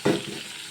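Liver frying in hot oil makes a short burst of sizzling that quickly settles into a softer, fading crackle.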